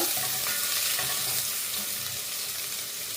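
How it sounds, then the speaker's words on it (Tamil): Chopped garlic frying in hot oil in a pan, a steady close hissing sizzle that holds evenly throughout with no talk. "எண்ணெய் நல்லா சூடறிட்டு இப்போ கட் பண்ணி வச்சுருக்க உள்ளியே போடுங்க"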